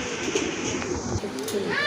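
A pair of pigeons for sale coos softly and steadily under a seller's ongoing talk, with faint background bustle throughout.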